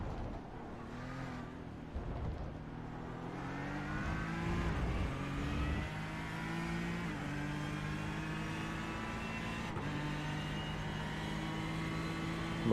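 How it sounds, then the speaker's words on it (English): Ferrari and Ford race cars roar through a racing video game, engines droning and shifting pitch as they rev and pass, the cars' steady mechanical hum filling the scene without talk. "Ferrari making way for the fast Fords coming through."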